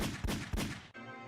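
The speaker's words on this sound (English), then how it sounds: "Oh, hang on, gunshots." Two heavy gunshots sound in quick succession within a rap diss track, booming and close, and the song's music follows after them.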